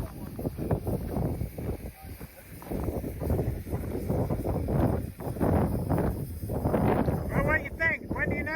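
Heavy wind buffets the microphone in a steady roar with gusty surges, while people talk intermittently underneath.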